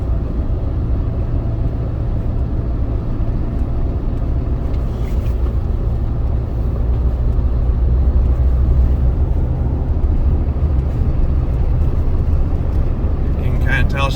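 A 2008 Jeep Wrangler rolls over a bumpy road, heard from inside as a loud, constant low engine and road rumble with bouncing thuds, under someone talking throughout.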